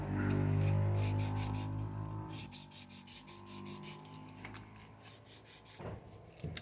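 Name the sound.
sanding small deck pieces for Titanic wreck model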